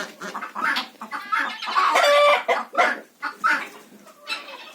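Repeated loud honking calls from a gander goose, several bursts in irregular succession, close by, with no talking.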